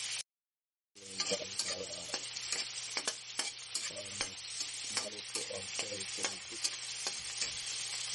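Spicy dried fish stir-fried with cherry tomatoes and chili in a hot pan, a steady close sizzle with rhythmic scraping and clinking of a utensil stirring, starting after a brief silence, with no talk.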